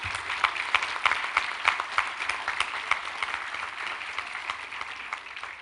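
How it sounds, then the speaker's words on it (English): A crowd applauds at a convocation ceremony, steady clapping sustained throughout with scattered sharper claps, moderately loud and slowly easing toward the end. "A big round of applause."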